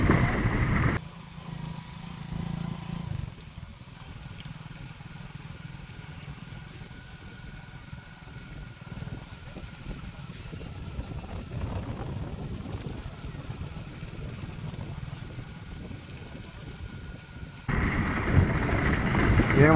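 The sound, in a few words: electric scooter riding in third gear mode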